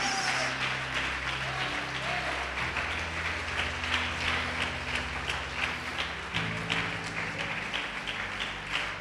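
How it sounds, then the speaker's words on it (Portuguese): A church congregation claps in praise, a continuous patter of many hands over sustained keyboard or organ chords, steady and moderately loud. "Vamos aplaudir o Senhor, vamos glorificar a Deus."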